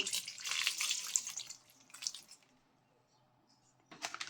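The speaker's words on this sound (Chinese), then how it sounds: "然后加水，先把橙子表面淋湿" Water pours and splashes over oranges in a bowl, a close, wet rush that surges early, trails off into quiet, then returns in a short final burst.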